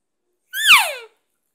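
A voice imitates an elk cow call: one short, nasal, mewing note that rises and then slides down, cut off abruptly in a clipped cadence, alone in silence.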